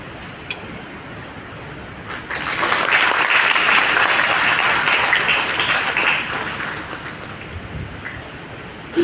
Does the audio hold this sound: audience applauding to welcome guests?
yes